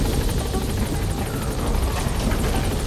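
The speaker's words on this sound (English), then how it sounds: "the chopper's touching down" A helicopter touching down in the video game Metal Gear Solid V: The Phantom Pain, its rotor thumping steadily and loudly as a dense, continuous chop with no talk over it.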